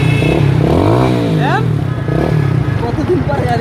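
A Roadmaster Rapido 150cc motorcycle with a modified CDI unit revs its engine up and down close by, loud and steady, with rising and falling pitch and a clattery idle.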